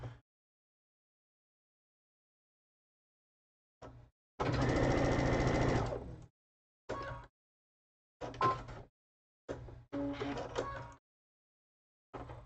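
A home sewing machine runs test stitches through two fabric scraps after a bobbin change, with one longer burst of stitching followed by several short, close bursts separated by pauses.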